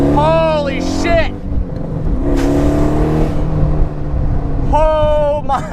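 The 700-horsepower LS-swapped Pontiac Solstice, fitted with a nitrous bottle, roars and revs as a loud steady engine drone, while excited voices shout and exclaim over it.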